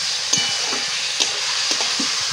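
Flat beans coated in spices hit hot oil with fried garlic, setting off a steady, close sizzle broken by a few soft knocks of stirring.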